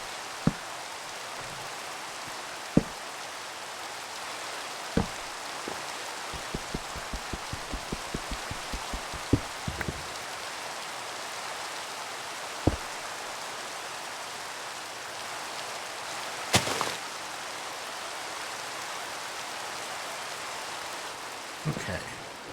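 Rain falling in the block-building game Minecraft, modpack Sky Factory 3, a steady soft hiss of rainfall throughout, broken by scattered sharp clicks and taps, a quick run of rapid ticks, and a brief louder burst.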